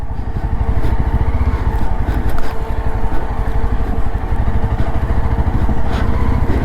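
A motorcycle engine braking while descending a mountain road between Lachung and Gangtok, its steady, close, throbbing drone running unbroken and loud with no voices.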